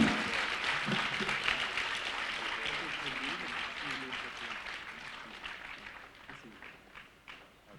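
Audience applause at a live spiritual lecture series gathering, a fairly faint, steady wash of clapping that slowly thins out toward the end.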